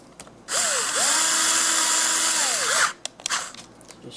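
A power drill whines steadily for about two seconds as it drives screws into the plastic housing of a fan, its pitch rising and falling as it speeds up and slows, then stopping.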